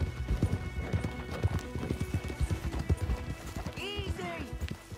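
Rapid clip-clop of hooves pounding along with a horse's whinny near the end in Red Dead Redemption 2, mixed with speech and busy background noise.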